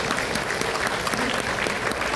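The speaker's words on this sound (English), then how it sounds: "Let's give them a round of applause." Loud, continuous clapping from a gathered audience for a family just introduced, thick and close throughout with no voices standing out.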